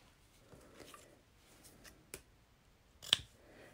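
Scissors cut out card stock for a handmade Christmas card, giving a few quiet, close snips and one sharper clip near the end, in an otherwise hushed room.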